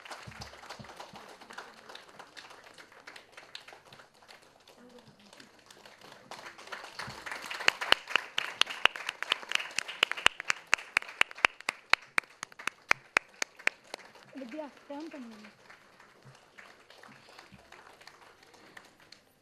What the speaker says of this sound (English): A big round of applause to the teachers.